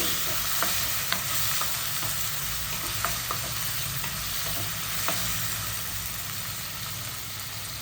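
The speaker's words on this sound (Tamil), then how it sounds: "இப்போ தக்காளியும் போட்டு வதக்கிக்கோங்க" Medium tomatoes sauté in a pan for a butter beans gravy, a constant loud sizzle with scattered sharp taps and scrapes from a spatula stirring through it.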